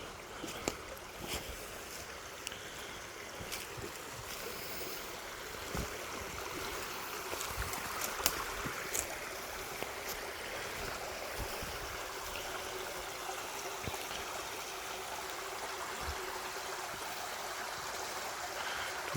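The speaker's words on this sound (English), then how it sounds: "What you would call them, almost like step waterfalls." Water spills over small step waterfalls only a couple of inches high on a stream near Minto, making a steady, soft broadband rush with faint trickling and no voices.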